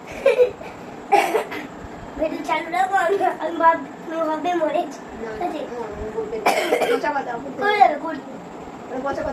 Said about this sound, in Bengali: দেখো কাশি হচ্ছে